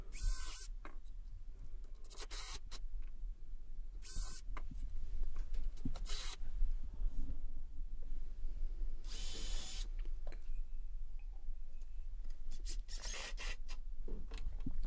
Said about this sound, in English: ready to drive the screws in